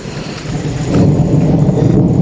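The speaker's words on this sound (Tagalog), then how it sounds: "naabot na po tayo ng ulan at madilim na" Steady heavy rain with a low rumble of thunder outdoors after dark, growing louder midway and continuing without a break.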